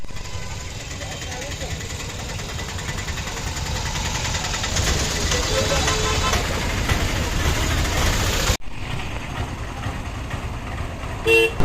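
Traffic jam near Ganagapur Dattatreya temple, with vehicles and autos idling and repeated car horns honking over a steady engine drone, while a person talks throughout; the street noise cuts off abruptly near the end.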